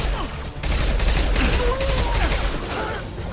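Gunfire in a Mass Effect 2 firefight, a dense continuous fusillade of rapid shots with scattered shouting and combat noise mixed in throughout.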